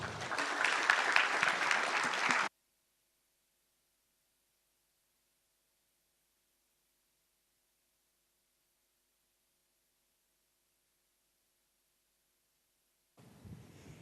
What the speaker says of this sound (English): Can I get a round of applause for Rachel?